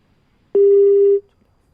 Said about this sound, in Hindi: फोन कट चुका है।